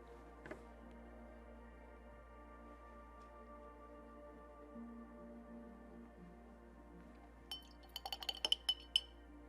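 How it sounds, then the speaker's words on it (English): A watercolour brush is rinsed in a glass of water between colours, ending in a quick run of light glassy clinks and taps as the brush knocks the jar, preceded by a faint steady hum, with no talking. "I'm rinsing it out between colours just so I don't mess up my watercolours."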